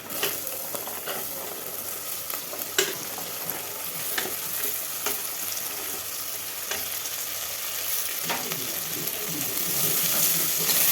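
Onions and mixed vegetables sauté in a pan for Tamil tamarind kuzhambu, a continuous sizzle punctuated by sharp clicks and scrapes of stirring, rising slightly toward the end with no voices.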